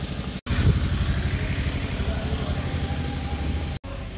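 A tuk-tuk engine in Mombasa putters loud and close with a steady, pulsing rhythm, briefly cutting out twice as the sound drops away and returns.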